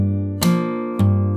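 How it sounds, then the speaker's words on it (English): An acoustic guitar chord is struck with a percussive slap in a fingerstyle song arrangement, over a ringing sustained note, with two sharp slap hits about half a second apart, close and unaccompanied. "And then you play the rest of the chord with a slap."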